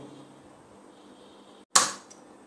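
A Nerf toy dart blaster fires once, a single sharp pop and whoosh rising out of near silence, loud and close, followed by a short fading tail and a faint click.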